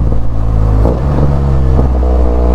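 Motorcycle engine in third gear, loud and close, holding a steady throbbing drone that dips and surges as revs shift during downshifting and engine braking.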